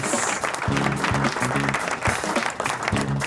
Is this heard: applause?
yes